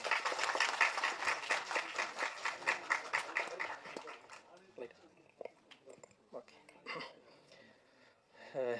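An audience at a Tamil movie trailer and audio launch ceremony claps loudly and densely, then the applause thins into scattered claps as a voice begins speaking.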